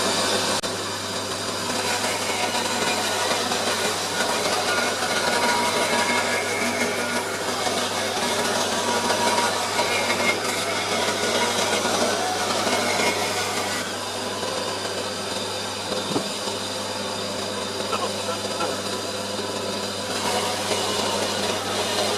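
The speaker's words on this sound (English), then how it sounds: "I'm now to the point where I can finally cut the side panels" A power saw cuts through side panels for a custom 88-key keyboard build, its steady loud whine and rasp running continuously with a constant motor hum beneath.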